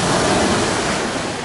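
Sea waves at Cleopatra Beach in Alanya crash in a loud, continuous broadband roar, close and alone with no voices.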